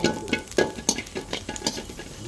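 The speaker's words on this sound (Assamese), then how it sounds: "পিয়াজ অকমান যোগ কৰি দিলো" Chopped onion tossed into a dry wok with toasted cumin and coriander seeds, cooked without oil, giving a soft crackle and irregular scraping stirs at close range with no talking.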